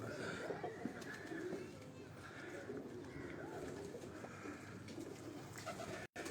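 Several pigeons released on a rooftop in Dharampura, Lahore coo in soft repeated low burbles at moderate distance over a constant outdoor background, with faint voices and rustling mixed in.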